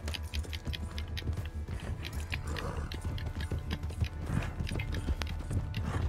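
Hooves of a horse in the video game Red Dead Redemption 2 clip-clop in a steady, busy rhythm, loud and close, with mechanical game sounds mixed in.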